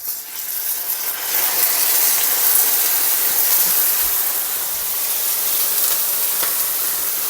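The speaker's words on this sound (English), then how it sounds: "So in goes the passata." Passata poured into a pan where chorizo and halloumi are frying, giving a steady, loud broadband sizzle that swells after the first second and holds evenly to the end with no voices.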